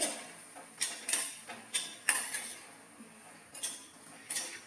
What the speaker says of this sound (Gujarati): હવે આપણે ઘી અને રવાને સારી રીતે મિક્સ કરી લેવાનું છે